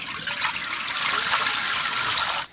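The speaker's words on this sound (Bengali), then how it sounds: "জল দিয়ে দিব" Water poured steadily into a cooking pot of duck meat curry with bottle gourd, a continuous splashing gush lasting a couple of seconds, close and fairly loud, stopping abruptly.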